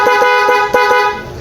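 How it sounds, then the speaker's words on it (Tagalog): A Yamaha Mio i 125 scooter horn, triggered from a halo switch, blares in a loud steady tone lasting well over a second, close up with no talk over it. "andito po yung ating busina"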